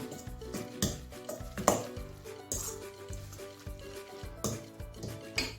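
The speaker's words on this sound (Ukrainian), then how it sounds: "Все перемішую гарненько" Utensils scrape and clink against a bowl as a potato mixture with egg, salt and black pepper is stirred in an irregular rhythm, with soft knocks and a few louder taps, close up and without voices.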